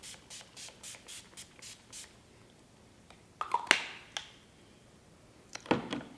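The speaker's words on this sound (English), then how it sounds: "I'm going to go in with the Paradise Set Hydrating Setting Spray" A pump spray bottle of hydrating setting spray puffs several quick mists in a row onto a face, followed by a few louder, sharper sprays close by.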